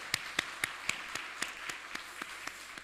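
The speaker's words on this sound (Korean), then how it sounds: "우리 찬양 주님께 영광의 박수 돌리세요" Scattered, sparse claps from a church congregation for a women's choir, a handful of distinct, evenly spaced slaps ringing in a reverberant hall, moderately quiet.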